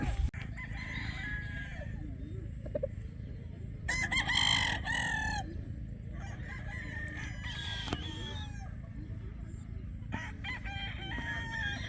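Roosters on a game farm crow repeatedly, some close and loud, others farther off, over a steady low background hum with scattered clucks between calls.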